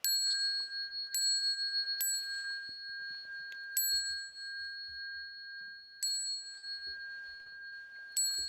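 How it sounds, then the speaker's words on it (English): A meditation bell is struck several times before bowing to the Buddha at a Buddhist Dharma gathering, each clear ring followed by a long, sustained fading tone, quiet and unaccompanied by speech. "going to ring the bell 3 times and invite everyone to join me in bowing to the Buddha"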